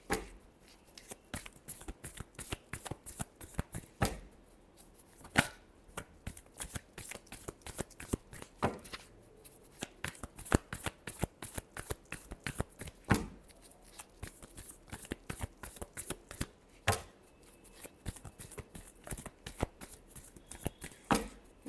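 Tarot cards are shuffled by hand in a quiet room, a fast, papery riffling with repeated sharp slaps and flutters coming close together and continuing steadily throughout.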